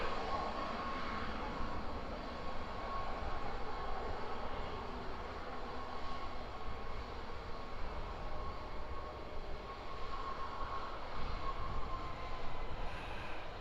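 A Wizz Air Airbus A321-200 arriving, its engines a steady broad roar that holds level throughout and swells slightly near the end, with no voices.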